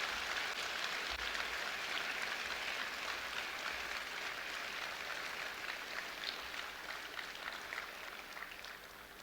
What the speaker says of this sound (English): can you give that man an enormous round of applause?